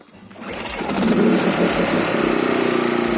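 A LIFAN KP2800I-2 petrol inverter generator (2.4 kW, single-phase) runs just after starting: its engine hum swells over the first second, then settles into a steady, fairly even drone with no talking.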